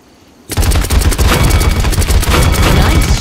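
Rapid, sustained weapon gunfire from the video game Paladins, bursting in loud and dense after a short quiet start and continuing as a steady automatic barrage with booming low end.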